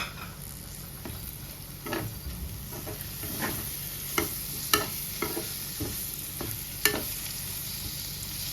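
Prawns frying in a pan, a soft continuous sizzle punctuated by scattered clicks and taps of a spatula stirring, fairly quiet and close, no talking.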